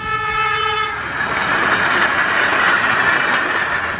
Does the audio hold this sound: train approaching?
yes